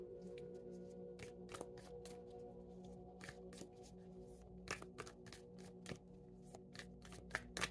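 Tarot archetype deck cards are shuffled and handled up close, quiet bursts of papery riffling and snaps coming in irregular clusters over a faint steady background hum.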